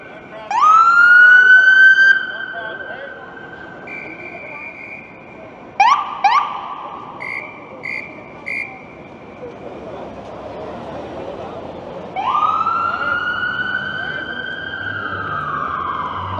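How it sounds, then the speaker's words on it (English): Emergency sirens wail and yelp nearby at King and Yonge in downtown Toronto, rising tones and horn-like blasts over steady traffic rumble, fading and returning loudly. "I'll wait for these sirens to stop."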